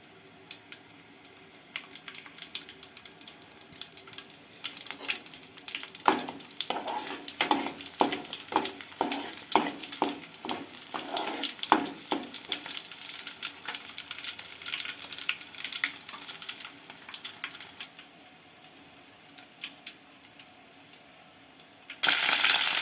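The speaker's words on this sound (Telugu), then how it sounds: "నూనె వేడెక్కేస్తుంది వెల్లుల్లిపాయలు అయితే వేసేసుకున్నాను" Garlic fries in hot oil on a stove, a continuous crackling sizzle that swells into a busy burst of popping and spitting, then settles back to a softer hiss with a loud rush at the end.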